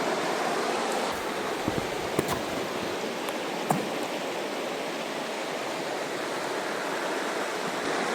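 Clear, deep river water flows steadily past a bridge at a quiet Vancouver Island campsite, a continuous broadband rush with a few faint clicks and no voices.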